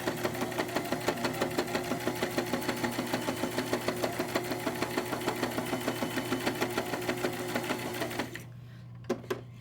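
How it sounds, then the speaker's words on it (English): A sewing machine runs fast stitches through fabric with the presser foot down, a rhythmic mechanical chatter of regular needle strokes that stops near the end, leaving a few faint clicks. "now putting the presser foot back down and sewing"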